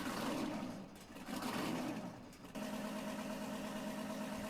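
The Hayes HDX Logger engine in Farming Simulator 19 runs with a rough, surging rumble that dips twice, then settles into an even, steady idle hum, heard alone without talk.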